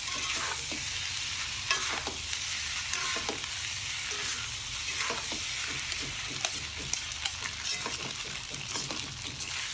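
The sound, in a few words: mixing rice with green onions in a pan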